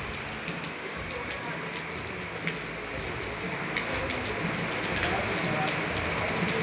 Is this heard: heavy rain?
yes